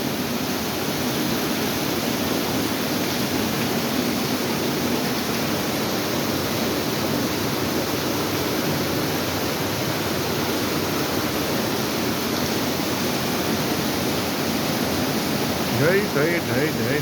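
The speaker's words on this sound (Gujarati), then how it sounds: "એટલો વરસાદ છે ભાઈ." Heavy monsoon rain pours down in Udhna, Surat, a dense, loud, unbroken roar of falling water that fills the whole scene without pause.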